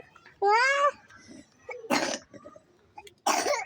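A young child coughs a few times in short bursts, with a high babbling vocal sound and light household noise around them.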